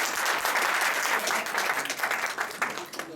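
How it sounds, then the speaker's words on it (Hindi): Audience at a family gathering giving a loud burst of applause, dense clapping that swells and then thins out toward the end. "एक जोरदार ताली अपने लिए प्लीज।"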